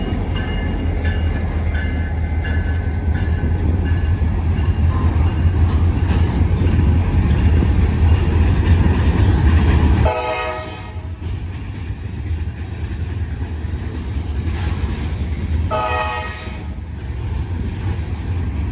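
CSX freight trains pass at a three-track railroad crossing, a loud, continuous roar of rolling cars and wheels that eases into a lighter clatter partway through.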